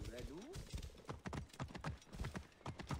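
Horse hooves clip-clop at a steady trot in the video game Assassin's Creed Origins, a fairly loud, regular rhythm of hoofbeats under someone talking throughout.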